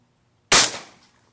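A single loud shotgun blast fired at wood pigeons over decoys in open countryside, a sharp close crack that decays quickly into a brief rolling tail, with nothing else around it.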